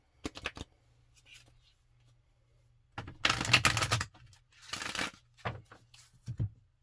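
Tarot cards are shuffled up close in several quick papery riffles and snaps. Short pauses separate the bursts, with a faint low hum underneath.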